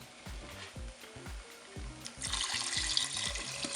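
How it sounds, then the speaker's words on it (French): Water, 500 ml of it, is poured into a Cookeo pot while making Cantonese rice. The liquid rushes in for the last half with a bright splash over faint clicks and low knocks, close up and with no voices. "je vais mettre mes 500 ml d'eau"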